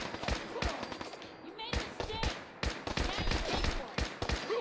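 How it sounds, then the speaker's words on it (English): Rapid bursts of gunfire ring out in a post-apocalyptic shooter game, sharp cracks coming in irregular volleys and single shots, moderately loud, while a player talks excitedly over the shooting. "Whoa, who's shooting me right now?"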